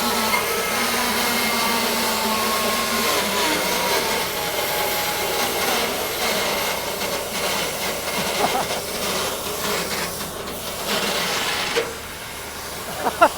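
A turbocharger spins hard on a homemade turbo burn barrel rig with an oil drum, giving a loud, continuous whooshing roar with a thin high whine that holds steady before easing off near the end.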